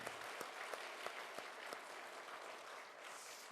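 A church congregation applauds to encourage Sunday school teachers, a steady wash of clapping from a large crowd heard from a distance at low level.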